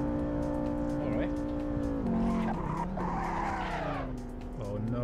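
A race car in a racing simulator game skids, its tires squealing over a droning engine that rises and falls through gear changes, loud and close, with no one talking.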